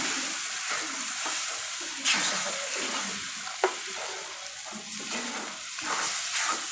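Gram flour batter is stirred continuously in a pan, a dense close scraping and sizzling wash with one or two brief knocks from the spoon.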